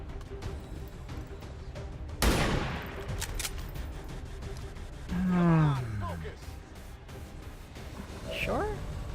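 A weapon shot rings out in the turn-based tactics game Long War 2, one sharp loud crack followed by a decaying tail, then swooping tonal game effects rise and fall afterward.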